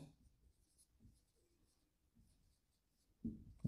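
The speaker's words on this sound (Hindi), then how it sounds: "थोड़ा अलग लिख रहा हूं मैं इनको" Marker or chalk scratches across a board during a statistics lecture on weighted index numbers, faint intermittent strokes in a quiet room, ending with a couple of louder taps against the board.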